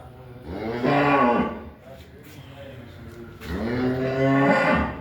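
Two long, loud moos from a Jersey dairy cow, one near the start and another toward the end, with quieter farmyard noise between them.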